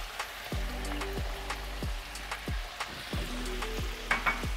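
Stirring broth with carrots in a pot, a series of repeated wet clinks and scrapes from a utensil against the pot over a steady bubbling sizzle, close and with no voices.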